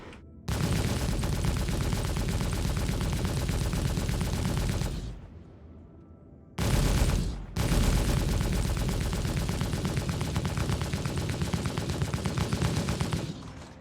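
Ship weapons on an Origin Jumpworks 400i fire in Star Citizen: a loud, sustained rapid-fire burst of about four seconds, a brief gap, a short burst, then another long unbroken barrage.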